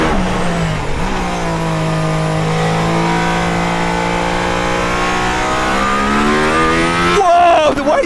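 Mercedes-AMG ONE hypercar with an F1-derived hybrid engine accelerating hard on a road, a loud sustained engine howl rising through the revs with a sharp gear change near the end.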